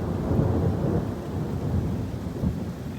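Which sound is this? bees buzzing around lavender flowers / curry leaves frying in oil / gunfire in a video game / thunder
thunder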